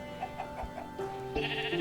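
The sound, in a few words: sheep bleating in a modded video game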